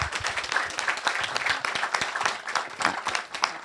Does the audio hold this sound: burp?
no